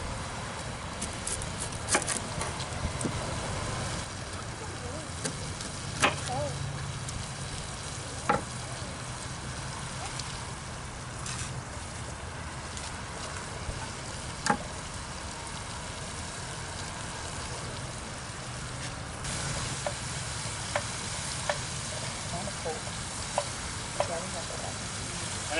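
Bacon and onions sizzle and crackle steadily in a Dutch oven, a soft continuous frying hiss with occasional pops and utensil clicks, heard fairly close.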